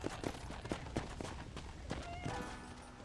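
Quick, rhythmic hoofbeats of a galloping horse in the video game Red Dead Redemption, fairly faint, with a brief whinny-like tone near the end.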